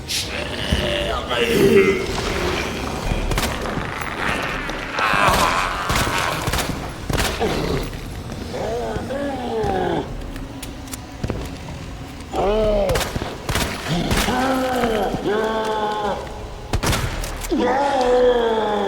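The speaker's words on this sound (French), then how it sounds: "J'ai tiré quand même pas mal de balles assez solides." Repeated heavy gunshots and booming weapon fire from the Resident Evil 2 video game, Leon's campaign, come in loud bursts and volleys alongside monster groans, with a person talking over the action.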